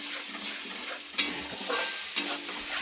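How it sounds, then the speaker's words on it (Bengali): Ginger paste, tomato, cumin, turmeric and chili powder are stirred in a hot pan for basanti pulao, making an even sizzle broken by a couple of brief spatula taps. "ভালো করে নেড়ে নেবো"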